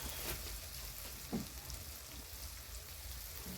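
Ground turmeric and chilli powder frying in oil in a home kitchen pan, a steady close sizzle with a brief scrape of stirring partway through and no talking.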